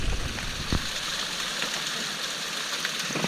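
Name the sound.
small waterfall on a creek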